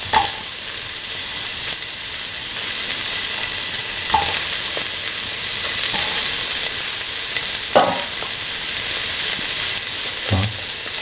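Red chili, onion pieces and shallots sizzle steadily in hot oil, a constant close frying hiss punctuated by several brief scraping stirs of a spoon.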